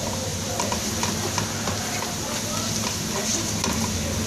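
Onions and green chilies fry with turmeric and red chili powder added, a constant loud sizzle under light, irregular stirring scrapes and taps in the pan, close up.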